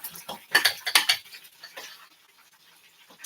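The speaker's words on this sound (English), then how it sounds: "So I'm whipping this up." Waffle batter with baking powder being whisked in a bowl, a run of quick clinking utensil strokes that is loud at first and then fades to faint, scattered taps.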